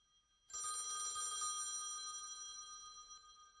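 An old-style telephone bell rings in a long, continuous metallic trill that starts abruptly and holds steady for about three seconds, loud and close, with no voices over it.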